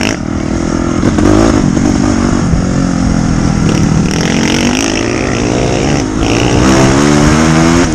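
Motorcycles passing on the Tboli to General Santos diversion road, loud engines revving and roaring close by, with road noise throughout.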